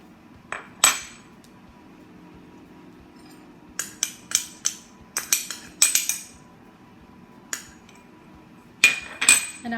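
Salt and baking powder mixed into flour in a bowl for cookie dough, heard as scattered light clinks and taps of a utensil against the bowl, in bursts of quick strikes separated by quiet pauses.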